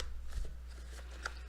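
Tarot cards being shuffled by hand in a brief, quiet flurry of soft riffling and tapping, close by and alone.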